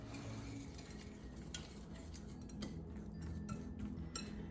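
Keto chocolate brownie batter being stirred in a small pan, with steady scraping and soft clinks of a utensil against the pan, close and continuous.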